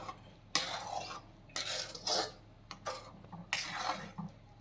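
Mutton dum biryani being stirred in a pot: a few separate bursts of scraping and clinking of a spoon against the metal pot, close by, with short pauses between them and no talk.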